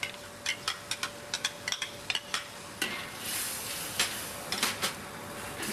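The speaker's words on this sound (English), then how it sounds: "Then we'll mix in the mint and coriander puree, stirring all the while, not too fierce a heat because you don't want it to burn." Mint, coriander and onion puree cooks in a pan while being stirred, with a steady low sizzle under a run of quick clicking spoon scrapes and taps, some clustered, others spaced apart.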